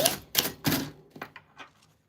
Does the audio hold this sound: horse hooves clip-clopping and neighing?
no